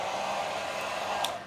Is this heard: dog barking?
no